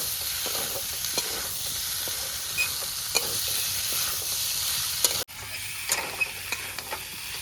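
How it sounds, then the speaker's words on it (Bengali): Boiled young jackfruit being stirred into frying potatoes in a pan, a constant sizzle with occasional spatula taps and scrapes, close and moderately loud, briefly cut off near the end before the sizzling resumes. "এই যে ইঁচড়টা সিদ্ধ করে রেখেছিলাম এটাকে ছেড়ে দেবো। ভালো করে নাড়িয়ে চাড়িয়ে এটাকে মিশিয়ে দেবো।"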